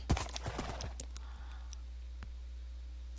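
Horse hooves clip-clop in the Minecraft video game: a quick cluster of sharp clopping steps at the start, then a few sparser clicks as the sound thins out.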